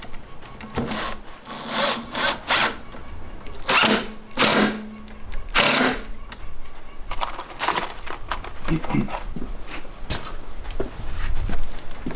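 Screws are driven into a butcher block table top with a power tool, giving repeated short bursts of whirring and grinding against wood, separated by pauses and light handling noises.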